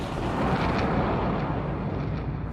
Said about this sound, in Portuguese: uma grande explosão, conhecida como Big Bang, liberou matéria para que se criasse o universo inteiro